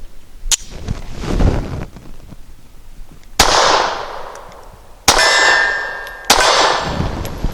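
A Walther CCP M2 pistol fires American Eagle 124 grain subsonic rounds outdoors, four loud sharp reports spaced unevenly, each cracking and then trailing off, with a faint metallic ring after one shot.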